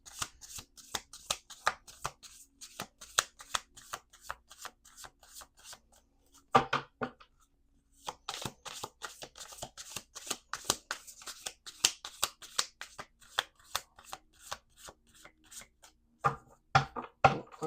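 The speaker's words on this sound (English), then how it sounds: "Let's do 2 more shuffles here." Repeated crisp riffling bursts of tarot cards being shuffled, close and clear, with a brief pause midway before the shuffling resumes.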